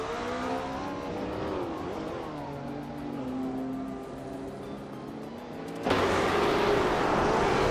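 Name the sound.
1968 Ford P68 race car engine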